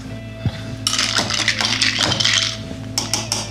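A cocktail topped up with lemonade is stirred in a glass, with ice clinking and rattling against the sides in a quick, bright burst, then a short pause and a few more clinks at the end.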